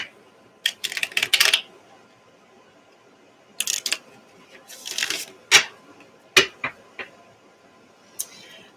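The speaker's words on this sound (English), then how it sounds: "I shuffle until my brain can let go of the last sign." Tarot cards shuffled by hand in several separate bursts of crisp riffling and slapping, with short quiet gaps between them, close and fairly loud, with no voice over the shuffling.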